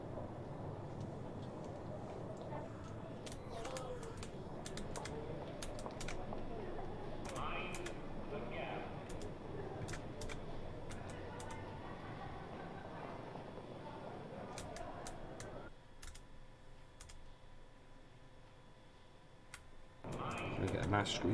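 Sparse, crisp clicks of computer keyboard keys being pressed while driving a District Line train in Train Simulator 2022, heard over a steady rumble of the moving train and cab ambience, with a voice talking in places.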